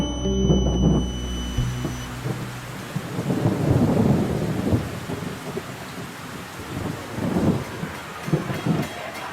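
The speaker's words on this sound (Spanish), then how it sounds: "se va a alargar una tormenta que" Thunderstorm with heavy rain pattering steadily and deep thunder rumbles rolling underneath, loud and continuous with no talk.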